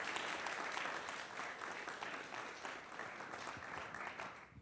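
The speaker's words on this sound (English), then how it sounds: "lead us in another round of applause for John Jim Wanda." A room full of people at a county commissioners meeting gives a round of applause for a retiring employee, steady dense clapping that carries on evenly and fairly faint throughout.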